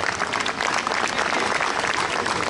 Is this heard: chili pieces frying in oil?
no